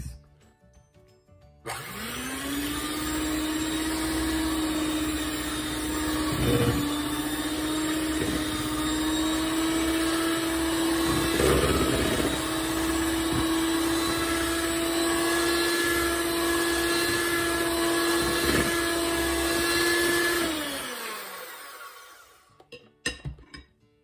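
An electric hand mixer whirs steadily for about twenty seconds while cookie batter with baking powder is beaten in a bowl, a loud sustained motor drone with small bumps, then spinning down.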